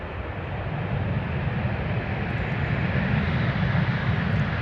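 Ryanair airliner roaring with reverse thrust after touchdown at Stansted, a dense, continuous low rumble building slightly as it goes, heard from a distance with no voices.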